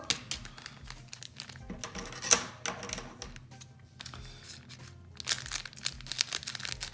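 Crisp crinkling of Yu-Gi-Oh foil booster packs being cut open with scissors, short snipping and tearing bursts, close up, in irregular clusters with quiet gaps between.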